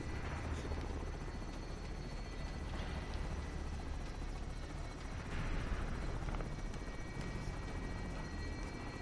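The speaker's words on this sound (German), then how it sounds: "Heli in Position." A military helicopter in a video game flies past with a constant, dense rotor drone that stays steady and fairly loud for the whole span, and no voices can be heard.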